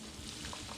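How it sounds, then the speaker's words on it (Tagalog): Battered shrimp tempura deep-frying in oil gives a brief, dense, steady sizzle, close and quiet. "Ngayon magpiprito na tayo."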